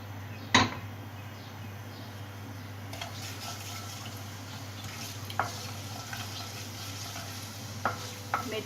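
Fenugreek seeds fry in hot oil in a wok, a faint steady sizzle with a few sharp clinks and stirring knocks from utensils against the pan.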